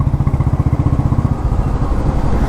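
An old Royal Enfield Bullet motorcycle being ridden, its single-cylinder engine thumping in a steady, loud, rapid pulse close up, with road and wind rumble underneath.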